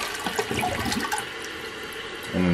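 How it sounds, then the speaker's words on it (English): Slow-draining toilet being flushed, a close rush and gurgle of water over a couple of seconds, then a tonal refill hum starting near the end. "So flush."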